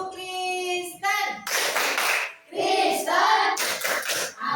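Primary school children in a fourth-grade Christian religion class clap their hands in rhythm while chanting together in unison, the claps landing between sung phrases, close and loud.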